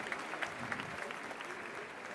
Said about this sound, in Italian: Facciamo un applauso a Cenzino, che è un'istituzione.